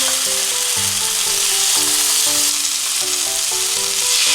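Swordfish pieces and onion sizzle loudly and steadily in a frying pan, a close, continuous crackle with no talk, while soft background music plays underneath.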